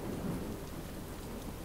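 Steady rain hiss with low rumbling thunder from a Star Wars: Empire at War clone wars mod battle map, continuous and fairly faint, with no voices over it.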